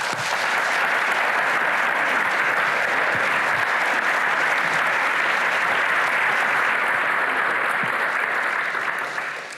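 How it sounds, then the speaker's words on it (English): Sustained applause from a convention audience, dense steady clapping filling the room for about ten seconds and tapering slightly at the end. "So please give her a big round of applause."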